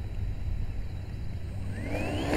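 A model aircraft motor, on a CrazyBall flying-wing model with elevons, whirs steadily outdoors and then climbs sharply in pitch as throttle is added near the end, with a constant low background rumble underneath.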